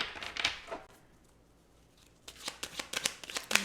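Tarot cards are shuffled in quick riffling bursts, one short flurry near the start, then a quiet gap before a longer run of crisp, close card slaps and riffles toward the end.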